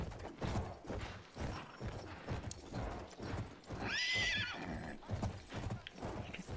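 A horse in the video game Battlefield 1, set in the Sinai desert, gallops with rapid rhythmic hoofbeats and lets out a loud whinny midway, close and prominent over game noise.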